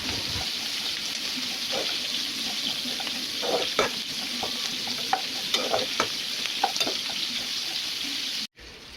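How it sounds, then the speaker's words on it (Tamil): Onions, cashews and poppy seeds sauté in a hot pan for fish molee, giving a steady close sizzle with scattered crackles and pops, a brief stirring clatter, and the frying cutting off sharply at the end. "நம்ம எடுத்து வச்சுருக்கிற முந்திரியையும் கசகசாவையும் சேர்த்து நல்லா கொஞ்சம் ஒரு 1 மினிட் அதை நல்லா வதக்கி எடுத்துக்கலாம்"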